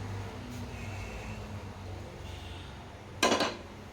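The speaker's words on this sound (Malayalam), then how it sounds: "നമുക്ക് നേരെ പാത്രം എടുത്ത് വയ്ക്കാം ഗൈസ്." A cooking pan set down on a lit stove, one brief metallic clank near the end of a quiet kitchen scene with a low steady hum, no voices.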